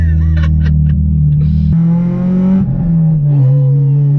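A straight-piped Honda Civic EP3 Type R engine revs hard and loud up into VTEC, its tone climbing and shifting pitch in sustained pulls, heard close by.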